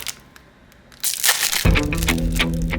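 A Pokémon card promo pack is torn open up close: quiet handling and crinkling first, then a sharp ripping and crinkle of the foil wrapper, followed by continued rustling, with no talking.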